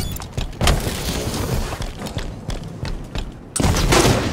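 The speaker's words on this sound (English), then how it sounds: "sniper rifle." Sniper rifle gunfire in a burst of sharp, booming reports, several shots cracking out over a noisy background with a louder blast near the end.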